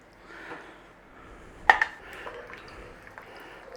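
A creamy chicken pot pie filling is stirred in a pan, with soft scraping and one sharp metallic clank of a utensil striking the pan, then fainter taps, all at moderate volume.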